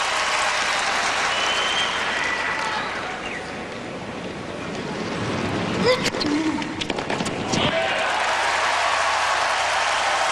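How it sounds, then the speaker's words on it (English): A tennis crowd at the 2005 US Open cheers and applauds during an early-round match, steady clapping that swells into louder cheering and whistles midway, with commentator voices underneath. "How often you hear a crowd at 2 love, you know, really pulling for the guy."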